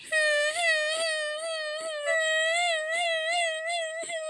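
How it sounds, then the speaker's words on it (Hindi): A cartoon bird cries in a high, wavering, sobbing wail, pulsing in short repeated bursts with small sniffly breaks, close and alone. "टूनी की रोने की आवाज सुनकर उसकी सौतेली माँ मीनू चिड़िया भी वहां आ जाती है"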